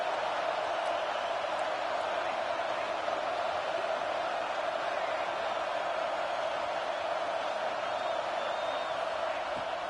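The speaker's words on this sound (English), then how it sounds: "Decibels rising as the crowd gets behind this defense on third down" Mississippi State football stadium crowd backing the defense on a third down, a loud, continuous wash of massed voices that stays at a steady, sustained roar throughout.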